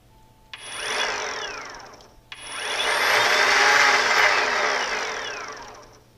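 Echo 58 volt battery string trimmer running with a vibration fault, a steady high whine that starts, cuts out briefly, then spins up again and holds, close by.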